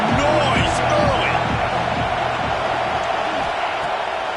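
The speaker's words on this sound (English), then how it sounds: "This crowd bringing the energy and noise early." Stadium crowd noise from the College Football 26 video game forms a loud, steady roar beneath a commentator's voice, with rhythmic thumping chants repeating at a regular pulse.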